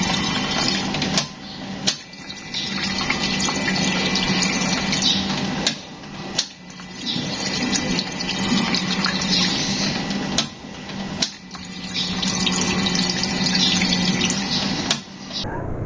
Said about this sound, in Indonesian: Sekalian juga penulis uji coba pompanya.